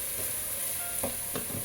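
Fumbwa being stirred with smoked fish marinade and parsley, a couple of soft scraping strokes against the pot under a constant faint cooking hiss.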